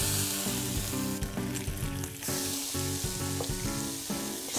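Bacon fries in a pan with a dense, steady sizzle and crackle close up, punctuated by pops and clinks of handling, with no talk.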